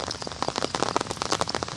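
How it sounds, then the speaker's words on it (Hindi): Steady rain falls on surfaces during an outdoor walk in the rainy season, a dense patter of close drops and splashes with no voices. "बारिश के मौसम में नहायत ही खूबसूरत मंज़र है।"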